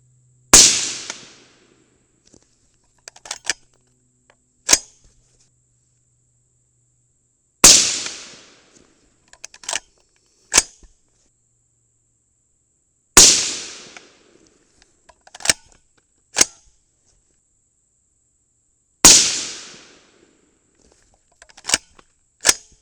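Four 22 Nosler rifle shots loaded with 26 grains of Varget fire at even intervals, each a sharp crack with a decaying tail, and a few faint clicks and knocks fill the gaps between shots.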